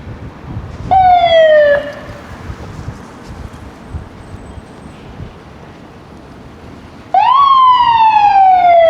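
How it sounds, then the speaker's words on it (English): A fire truck siren wails on Woodbine Avenue in Toronto's East York, two loud rising-and-falling sweeps separated by several seconds of quieter street background. "Fire truck springing into action."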